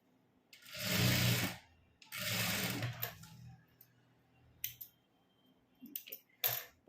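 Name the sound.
sewing machine stitching a churidar top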